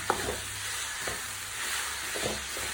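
Food frying in a pan with turmeric powder is stirred in a Kerala-style home kitchen, giving a steady soft sizzle with a few scraping stir strokes spread across the moment, fairly quiet and with no talking.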